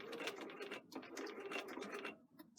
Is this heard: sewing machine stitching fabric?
yes